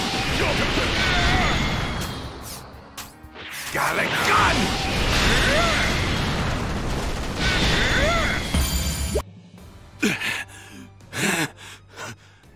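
Vegeta's Galick Gun energy attack in Dragon Ball Z: Kakarot, a surging, whooshing beam blast with crackling energy and shouted voices, then a quieter stretch with scattered effects.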